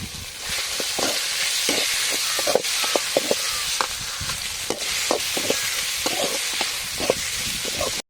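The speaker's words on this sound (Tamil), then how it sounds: "தக்காளி நல்லா வதங்கிடுச்சு." Tomatoes and curry leaves fry in a pan with garlic paste for chicken pasta, giving a steady sizzle and hiss. A spoon stirs and scrapes against the pan in scattered soft knocks, and the sound is close and continuous.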